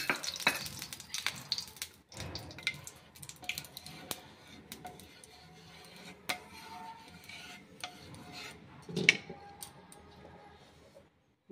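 Small lentil fritters (bora) dropped into a little oil on a tawa, a faint sizzle with scattered clicks and utensil taps, close and quiet.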